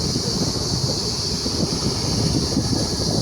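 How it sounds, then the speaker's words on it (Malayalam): Wind rushing steadily through the leaves of a tree beside a railway station on the Bangalore–Hyderabad bypass, a continuous broadband rustle with no talk and no distinct gusts. "ഈ സൗണ്ട് കേൾക്കുന്നത് ഈ മരത്തിൻ്റെ ഇല കാറ്റ് പിടിക്കുന്ന സൗണ്ടാണ്"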